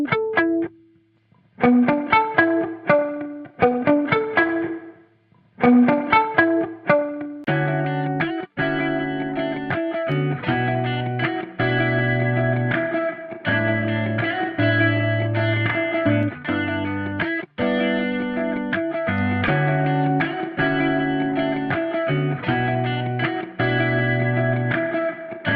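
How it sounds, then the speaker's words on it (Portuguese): Distorted electric guitar with heavy reverb effect, chords and picked notes ringing on and sustaining, loud and continuous over about twenty-five seconds with brief gaps early on. "Veja como esse reverb cria um transiente que, por exemplo, numa bateria ficaria horrível. Mas numa guitarra pode trazer um efeito bem interessante."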